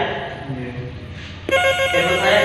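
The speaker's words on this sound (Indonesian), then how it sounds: "Telepon saya bunyi, angkatnya bentar ya." A mobile phone ringtone starts partway through, a bright, loud repeating ring close by, with people talking before and under it.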